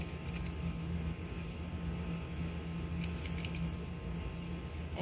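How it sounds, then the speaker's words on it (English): Small scissor-like snips of a seam ripper cutting a thread while working buttons and buttonholes on a sewn vest, two short clusters of crisp clicks over a steady low hum. "I'm going to cut this little thread"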